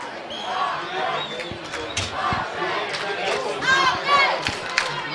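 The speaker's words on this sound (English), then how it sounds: "That's got the crowd on their feet" A high school football crowd at a Nevada Union Miners game against Del Oro cheers and shouts in the stands, a dense roar with rising yells that swells toward the end, heard from a distance with voices throughout.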